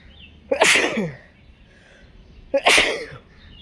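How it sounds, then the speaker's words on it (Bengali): Two sharp, loud sneezes sound close by on a rainy-morning rooftop, spaced about two seconds apart, each a sudden burst that quickly fades. "কেমন হাঁচি দিলাম?"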